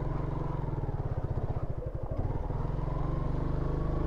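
A motorcycle idles and putters close by on a rough hiking trail in Makawanpur, its steady low engine thrum pulsing evenly with slight unevenness midway, no voices over it.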